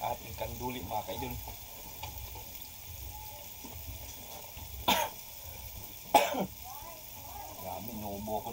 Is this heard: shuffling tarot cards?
no